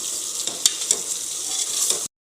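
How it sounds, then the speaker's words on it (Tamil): Mushrooms hiss and sizzle in a hot pan, with a spoon scraping and clicking as they are stirred, before the sound cuts off abruptly. "காளானை சேர்த்து நல்லா கலரி விட்டுக்கோங்க."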